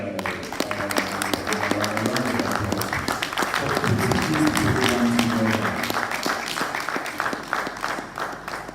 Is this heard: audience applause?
yes